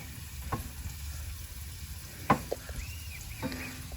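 Frying in heated coconut oil at a riverside campsite beside a small camper bicycle, a low steady sizzle with a few sharp clinks and taps of a utensil against the pan, heard up close with no talking.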